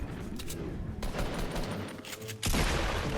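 Minigun fire in Fortnite, dense rapid bursts of gunfire with a harsh rattling texture, loud and close, growing fuller and louder toward the end.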